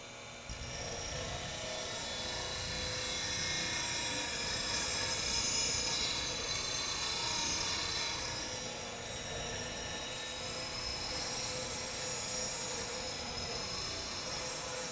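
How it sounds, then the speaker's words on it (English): A steel bowl gouge is ground on a CBN grinding wheel, giving a continuous, fairly loud hissing grind over the steady hum of the grinder motor, with no talk throughout. "These CBN wheels generate so little dust and no sparks, no heat"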